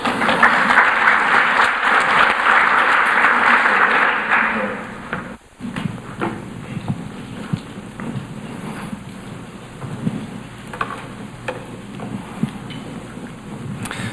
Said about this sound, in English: Let's give Dmitry a big round of applause.